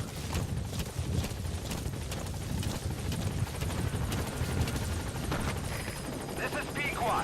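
In Metal Gear Solid V, the Pequod support helicopter arrives at the landing zone, its rhythmic rotor thump and rumble running steadily throughout, with a voice speaking over the engine noise.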